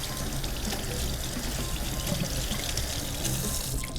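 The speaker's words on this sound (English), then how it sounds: "I run it one more time through the water just to take a little bit of the paint off" Water runs and splashes steadily as a paint-covered sock puppet is rinsed through it, a continuous close, fairly loud pouring and sloshing sound with no pauses or voices.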